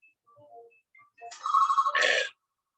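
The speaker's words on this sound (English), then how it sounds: "I'm sorry about the phone ringing." A telephone rings indoors in a home, a short electronic ringing burst heard close and fairly loud after brief quiet tones.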